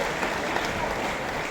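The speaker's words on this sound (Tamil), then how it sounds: "கைத்தட்டலாம்." Applause from an audience at a Thirukkural recitation competition held as an India Book of Records event, a short steady patter of clapping heard at moderate level without talk.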